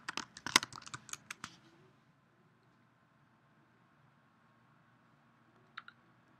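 Quick bursts of typing on a computer keyboard as a username and password are entered, a rapid cluster of close key clicks that stops after about two seconds, then quiet room hum and two faint final clicks.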